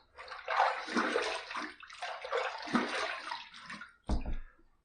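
Water splashes and runs as a face is rinsed after a shave with an aluminum safety razor, two close, gurgling bursts followed by a short sharp splash.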